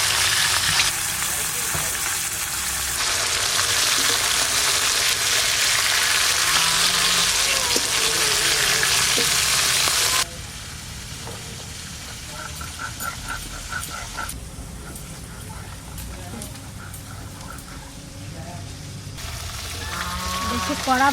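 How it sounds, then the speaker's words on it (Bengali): Pomfret fish pieces fried four at a time in hot oil, a loud dense sizzle that drops to a softer crackle partway through, with occasional faint talk. "চারটে চারটে করে ভাজবো।"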